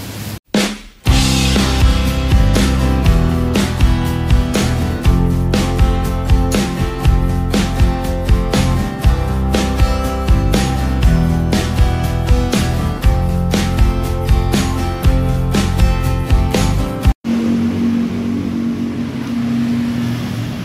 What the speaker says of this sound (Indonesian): Kita hidupkan mesinnya.